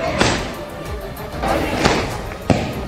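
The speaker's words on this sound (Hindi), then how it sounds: "उज्जैन में उनके घर पर आतिशबाजी शुरू हो गई" Sharp bangs of fireworks crack at irregular intervals over a dense background of distant popping and crowd noise, at a celebration outside a house in Ujjain.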